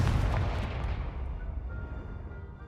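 A Confringo blasting spell detonates in Hogwarts Legacy, a single loud boom up front that rolls off into a long, fading rumble and crackle.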